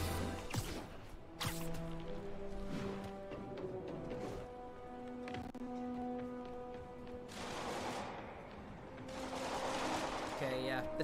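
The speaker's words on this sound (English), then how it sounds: "All you can hear is just gunshots going off everywhere." Dense gunfire bursts erupt again and again in the Spider-Man PS4 video game, mixed with crashes and a busy layered game soundtrack throughout.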